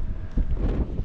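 Wind gusts and buffets against the microphone on a hilltop fort, producing a low, rumbling roar with no other clear sounds.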